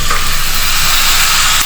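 Spicy brown channa masala sautéing in a pan gives off a loud, steady sizzle and hiss that carries on without a break, close by and unaccompanied by voices.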